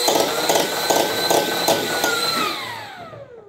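A 3D-printed flywheel Rival SMG blaster fires in a burst with a blower supercharger, its motor whirring loudly under rapid rhythmic thumps, then spinning down with a falling whine.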